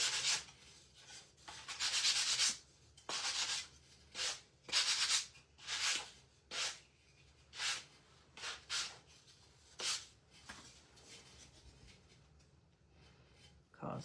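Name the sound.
sanding wood for a star craft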